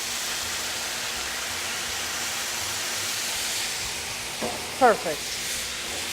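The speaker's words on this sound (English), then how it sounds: "We're going to deglaze with wine." Wine hitting a hot pan of Kalamata and queen olives with tomato, a steady broad sizzle and hiss throughout, with a brief clatter near the end and a short spoken word.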